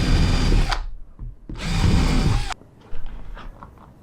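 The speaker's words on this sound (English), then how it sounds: "Now I can drill a couple of holes through here." A power drill whirs loudly in two long bursts, bores through wood during camper van cabinet making, then stops, followed by light clunks and handling noises.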